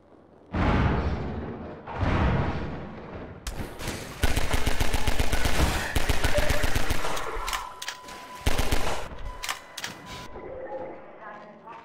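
Two short spoken phrases open the moment, then rapid gunfire in Half-Life 2 with RTX rattles in dense, loud bursts, with brief gaps and a few trailing single shots.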